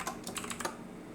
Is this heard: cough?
no